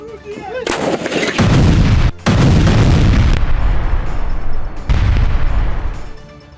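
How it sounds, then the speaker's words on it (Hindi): Artillery fire strikes Kherson in a series of loud, heavy booms, several in close succession with a rumbling tail after each blast, and no voices. "आर्टिलरी से खेरसौन पर प्रहार।"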